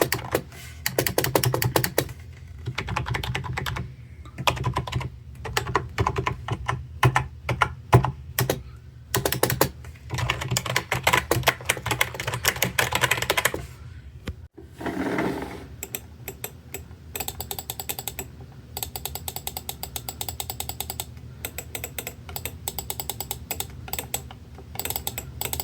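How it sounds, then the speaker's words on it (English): Rapid typing on a cheap gaming keyboard from an Amazon keyboard-and-mouse set, dense clattering keystrokes in bursts with brief pauses, close and continuous for the whole stretch. "This was just a random gaming keyboard and mouse set that I got off of Amazon,"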